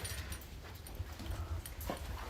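Beagle puppies in a crate whimper and yip faintly, soft high cries scattered over a low steady background rumble; no one talks.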